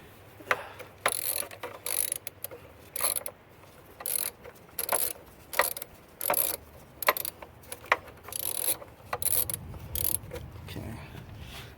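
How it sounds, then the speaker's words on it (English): Ratchet wrench clicking in short repeated bursts while tightening spark plugs on a 2005 Toyota RAV4 during a tune-up, close and crisp with brief pauses between strokes. "So I'm going to tighten these ones down next."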